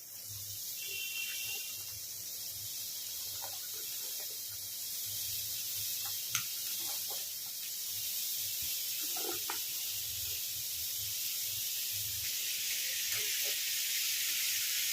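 Cut snake gourd pieces land in hot tempering in a pan, setting off a steady broad sizzle that holds with slight swells and a few scattered soft knocks.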